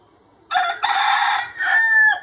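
A rooster crows loudly and close by in two bursts, the first a long drawn-out call and the second a shorter follow-up, with no other sound around it.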